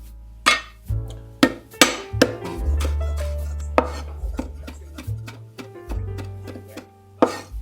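A knife chops lemongrass finely on a cutting board, giving sharp, close, irregular knocks about once or twice a second over a low steady hum.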